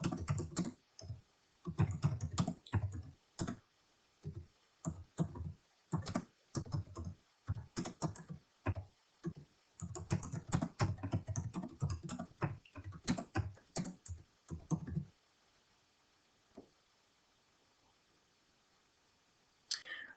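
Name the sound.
typing a chart title on a computer keyboard in Excel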